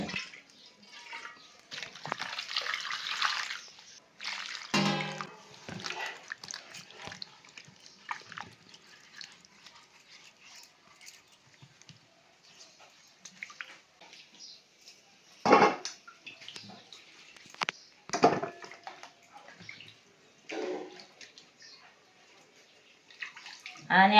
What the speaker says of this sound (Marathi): आता चुलीवर कढाई ठेवून पाणी गरम करायला ओतून घेते